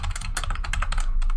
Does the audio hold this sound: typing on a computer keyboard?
yes